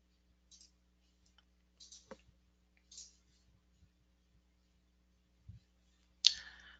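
A computer mouse clicks on a network monitoring chart in NMIS software, giving sparse, sharp, isolated clicks spaced irregularly over several seconds in a quiet room, ending with one louder click.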